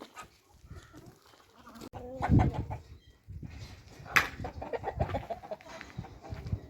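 Hens cluck and murmur inside a winter chicken coop, scattered calls rising over rustling and shuffling, near and moderately loud, with a voice faintly in the background.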